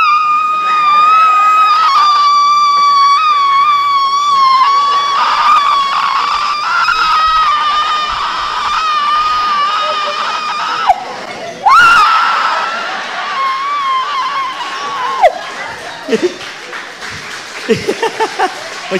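A man imitates a woman's high, shrill scream at the sight of a scorpion, a long wavering shriek running loud for about ten seconds and then breaking into shorter cries and yelps, with applause-like crowd noise mixed in.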